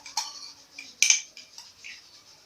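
A utensil clinks and scrapes against a metal pot while mashed garlic and ginger are mixed, several light metallic taps and rings spaced irregularly, close and fairly quiet, with no talking.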